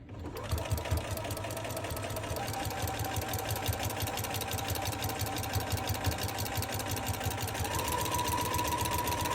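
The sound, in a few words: sewing machine stitching fabric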